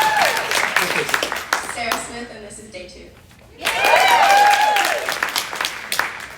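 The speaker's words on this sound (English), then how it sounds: "Give them a big round of applause, you guys." An audience at a real estate sales meeting applauds new agents, with bursts of clapping and a spoken introduction between them, then a louder, fuller round of applause toward the end.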